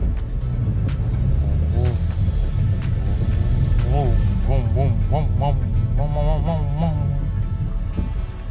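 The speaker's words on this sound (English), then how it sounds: "I'll let you guys listen to this beautiful engine again. Are you ready? Got first gear." A 2013 Vauxhall Astra J SRi with a 1.4 engine revs in first gear, a steady close engine drone from inside the car with several short, wavering rises in pitch.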